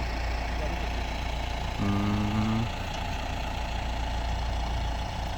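Steady low engine drone of a tractor idling at a site where eucalyptus stumps are being dug out, with a brief tonal hum or voice-like sound rising over it in the middle.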